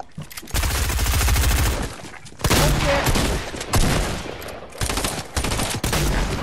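Gunfire in the Fortnite video game comes in loud, sustained bursts of rapid shots, separated by a few brief pauses, with no talk over it.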